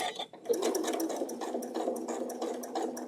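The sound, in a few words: sewing machine stitching fabric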